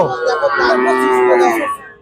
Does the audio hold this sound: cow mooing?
yes